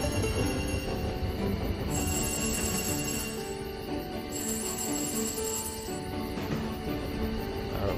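Rail rumble from a train speeding along at high speed in the video game Tiny Rails, a dense continuous roar with faint metallic tones and chimes layered over it, steady throughout.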